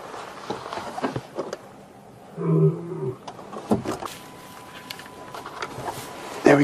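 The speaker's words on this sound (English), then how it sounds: "We can hear the Matimbas calling back at us now." Lions of the Matimba pride roar from a distance, a short series of low, grunting calls rising above quiet bush ambience with scattered faint rustles.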